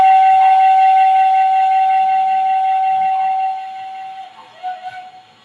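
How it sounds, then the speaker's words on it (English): A Milwaukee Road locomotive whistle blows long and loud, a steady multi-tone chord held for several seconds before fading into a couple of short, softer toots at the end. "I love holding the whistle down long."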